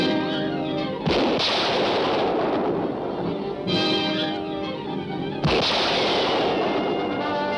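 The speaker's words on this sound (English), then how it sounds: "Keep firing." Old film-serial gun battle. Three loud, sharp shots or blasts each break through a dense, harsh background roar of continuous firing, all close and unbroken by speech.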